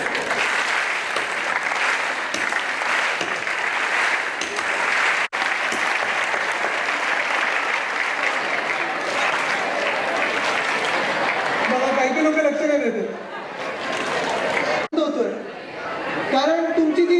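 A large hall of school students in Thane claps together on cue, a dense, steady roar of hands held for many seconds, with crowd chatter under it and a voice speaking as the clapping thins near the end.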